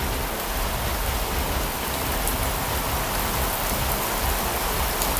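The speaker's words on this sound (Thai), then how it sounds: "ตอนนี้ฝนเริ่มจะตกหนักแล้วนะทุกคน ได้ยินเสียงฝนปะ" Heavy rain falling, a dense, steady hiss of drops drumming on surfaces, constant and loud throughout with no talk.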